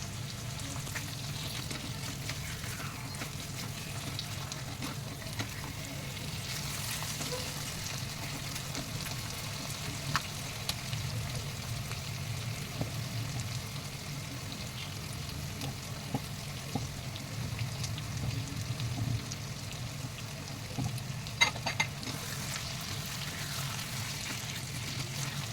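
Chicken pieces browning in a pan give off a steady, even sizzle and hiss that runs the whole time, with occasional soft scrapes and taps from stirring, close and moderate in level, no voices.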